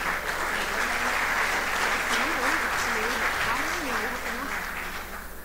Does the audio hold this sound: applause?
yes